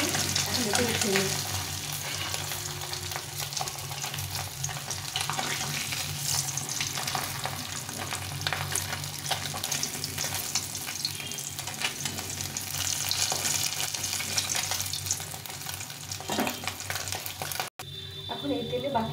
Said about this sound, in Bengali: এখন এই তেলে বাকি মাছগুলো ভেজে নেব